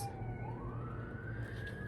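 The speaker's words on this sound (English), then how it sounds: "I don't know if you can hear the sirens." A distant emergency siren wails with a slowly rising pitch over low city traffic rumble.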